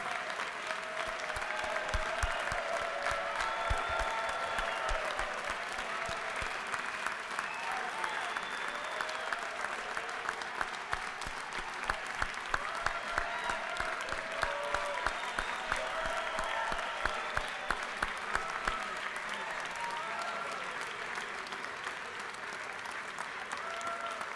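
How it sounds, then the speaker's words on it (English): Sustained applause in the Georgia House chamber, dense crisp clapping from many people that continues steadily for over twenty seconds with scattered louder claps and faint voices underneath. "let's give a big round of applause for the pages that are still here with us."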